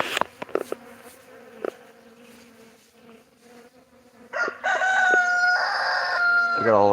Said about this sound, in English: A couple of bees started coming around, and then poof. You can kind of see them flying.